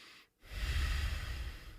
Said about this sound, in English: if I'm swimming and have to take that lateral breath